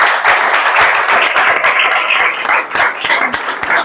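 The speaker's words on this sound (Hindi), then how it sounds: "ताली बजाओ।" An audience at a group discussion claps steadily for several seconds, a close, loud patter of many hands with individual claps distinct in the mix.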